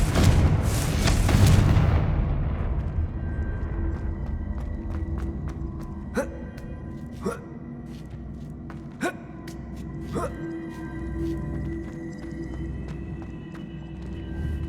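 Confringo fire spell in the Hogwarts Legacy video game bursting with a loud, broad blast at the start that rumbles and fades over a couple of seconds, followed by a series of sharp, separate impacts and crackles.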